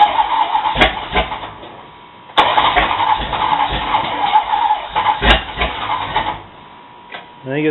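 A 1970 Plymouth Cuda, fed lacquer thinner instead of gasoline, is cranked with the key in several bursts, with sharp clicks between them, while the engine sputters roughly without settling into a steady idle.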